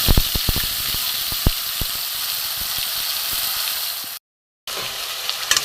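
A paste of tomato, onion, garlic and ginger fries in mustard oil in a kadai, giving a dense, steady sizzle with sharp spatters and pops early on, then a brief silent gap before the loud frying resumes.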